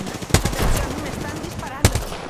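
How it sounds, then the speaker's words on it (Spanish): Gunfire in the video game Apex Legends: two sharp, loud shots about a second and a half apart, separated by a short burst of rapid firing. "Me están disparando"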